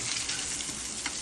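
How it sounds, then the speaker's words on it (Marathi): Vegetables fry in hot oil over a high flame, giving a continuous, dense sizzle that sounds close and fairly quiet throughout the brief moment. "तेल तापलंय थोडं. पण फ्राय करतोय त्याला"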